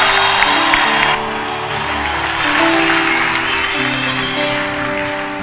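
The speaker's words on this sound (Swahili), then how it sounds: "simutupigie makofi nyinyi jamani" A church congregation claps with scattered whoops and cheers over steady sustained musical tones, the clapping loud and close, dipping slightly partway through and then continuing.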